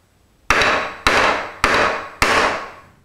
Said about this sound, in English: This is the way a woodworker would swing a hammer.